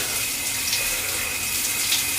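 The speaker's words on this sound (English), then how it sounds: "Sometimes I have a cup or something so you can get the water in there quicker." Water runs steadily into a trombone being cleaned, a close, loud, continuous rushing and splashing with no voices.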